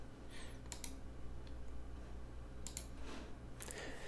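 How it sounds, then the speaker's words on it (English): Faint, sparse keystrokes on a computer keyboard while a password is entered, followed by a mouse click, heard over a steady low electrical hum in a quiet room. "Next, I type in my password and click the Sign In button."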